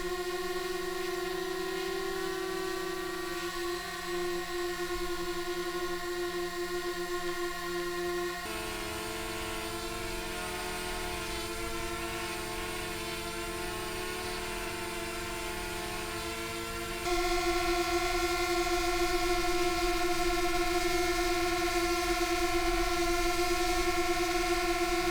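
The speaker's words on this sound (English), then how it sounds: "now listen yourself to how the drones sounded and to how loud they were" Steady, high-pitched electric whine of small camera drones (DJI Mavic Air, Mavic Mini, Spark) hovering, with sharp tonal hums that shift pitch in three sections, the last one louder.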